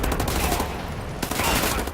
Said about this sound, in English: each gun is pretty satisfying to shoot with